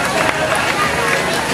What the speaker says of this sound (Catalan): Un fort aplaudiment també per ell.